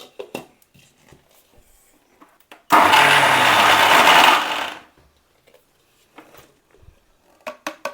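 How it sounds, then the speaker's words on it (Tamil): A mixer grinder whirs at full power for about two seconds as it grinds hot chocolate powder with maple syrup for a chocolate hemp spread, a loud steady motor roar that stops abruptly between quiet kitchen clatter. "இப்போ மிக்ஸியில் கிரைண்ட் பண்ணுவேன்."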